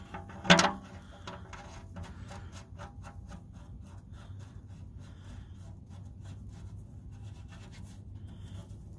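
An oil drain plug being threaded back into a 5.9 Cummins engine: one sharp knock, then faint, steady clicking and scraping from the metal threads, close by with no talk.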